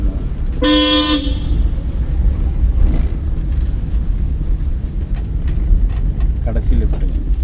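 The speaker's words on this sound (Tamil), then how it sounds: "ஹாரன் அடிக்கணும்." Car horn honked once during a driving lesson, a loud, close half-second blast over the steady hum of the moving car, with an instructor's voice speaking afterward.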